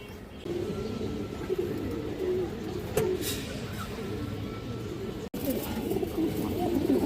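Domestic pigeons of old-breed high-flyer and colouring lines cooing in a loft, soft low throaty coos repeating near and far under steady background noise, with one sharp brief sound midway and no talking.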